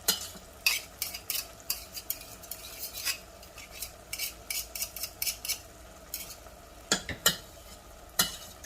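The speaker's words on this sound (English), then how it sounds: "Okay, so give that a stir." Garlic and onions stirred in a pan for Greek lentils with rice, a utensil scraping and tapping against the pan in quick irregular strokes over a faint sizzle, close and fairly quiet.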